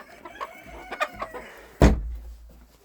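Bantam chickens cluck in a small coop, with several soft clucks early on, then a sudden loud close thump or flutter, while someone talks nearby.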